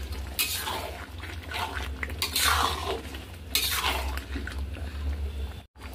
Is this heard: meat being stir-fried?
yes